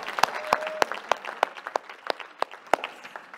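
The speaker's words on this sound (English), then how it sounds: "Another round of applause" Applause at a conference closing session, a small group giving sparse, distinct claps at a moderate distance, fairly quiet and evenly spaced.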